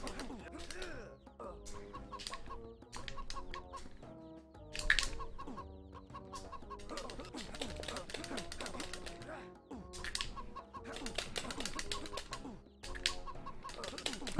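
Chickens cluck and squawk in the Shrek Extra Large video game, bursts of clucking and wing flaps repeating through a looping game music track, with occasional sharp hits.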